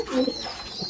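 A pigeon gives a short, soft coo close by while feeding its chicks, a single brief call.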